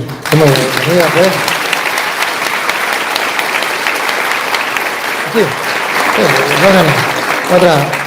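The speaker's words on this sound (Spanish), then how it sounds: "Un fuerte aplauso." Loud, sustained audience applause fills a church gathering, steady clapping throughout with voices calling out over it at moments.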